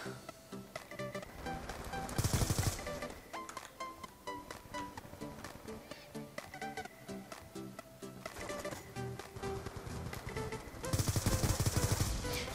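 Rapid automatic gunfire in Black Ops 2 as a full magazine is emptied, long sustained bursts of close, sharp shots with a couple of heavier louder blasts.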